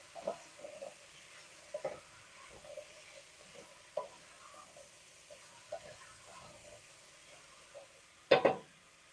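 Potatoes, carrots and onions stirred in a pan for Japanese curry, a faint low sizzle punctuated by soft scraping strokes every second or so, ending with a louder clatter of the utensil.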